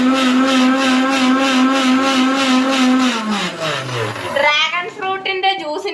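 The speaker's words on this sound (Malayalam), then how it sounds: "നമ്മൾ മിക്സിക്കകത്ത് സ്പൂൺ ഇട്ട് അടിച്ചു" A mixer grinder whirs loudly while beating eggs with a spoon left inside the jar, a steady motor drone that winds down in pitch as it is switched off, with rattling and clinking after it stops.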